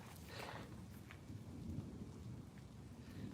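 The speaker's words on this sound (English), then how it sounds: "Now I'm hearing thunder over here in the southeast, and I'm hearing thunder over here in the southwest" Distant thunder rumbles low and soft during an Arizona thunderstorm, a continuous muffled roll under the faint hiss of rain.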